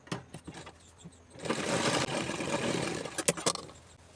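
Sewing machine stitching a hidden seam on palazzo pants, starting after a few clicks and handling taps and running steadily for a couple of seconds, then stopping into a few sharp knocks.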